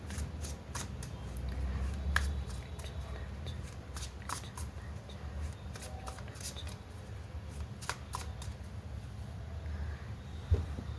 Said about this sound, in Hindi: we'll start shuffling cards for you